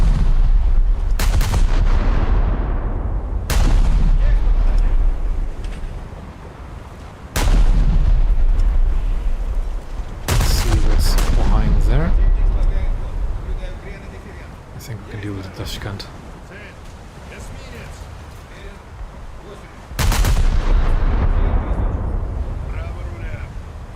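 Naval guns fire in a warship video game, a series of heavy booming salvos spaced several seconds apart, each with a deep rumbling decay, while a voice talks over the action.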